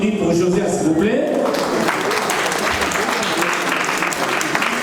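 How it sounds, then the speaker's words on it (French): Applause from a crowd builds and continues steadily, loud and dense, with a voice speaking over the start of the clapping. "Josia, s'il vous plaît, je demande d'applaudir pour Josia s'il vous plaît."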